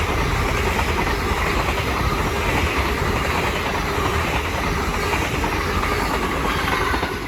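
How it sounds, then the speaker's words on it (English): An LNER Azuma train, running from Edinburgh Waverley to London King's Cross, passes through Hitchin station on the East Coast Main Line as a loud, steady, close rumble with rhythmic wheel clatter throughout. "here's LNER Zoomer from Edinburgh Waverley to London King's Cross."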